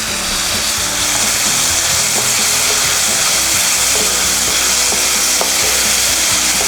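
Peas going into vegetable kurma frying in a pan, with a continuous loud sizzle and repeated scraping stirs of a spoon against the pan, close by, no talking.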